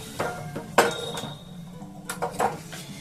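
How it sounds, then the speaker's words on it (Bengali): Clattering kitchen sounds accompany hot sesame brittle (til patali) mixture being poured into a tray: several sharp metallic clinks and knocks of pan and utensil against the tray, close and moderately loud, with no talk. "এখন আমি খুব তাড়াতাড়ি করে এটাকে ঢেলে আর সেট করে দেবো"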